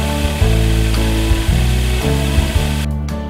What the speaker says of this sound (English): this is the knife finish on the 120 grit belt